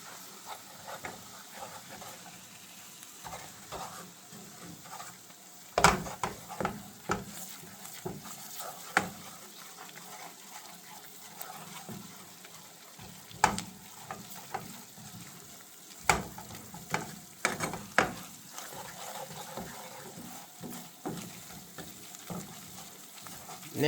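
Ground turkey fries in a pan with a steady low sizzle while a utensil stirs and scrapes it, producing irregular clinks and scuffs up close, with no talking.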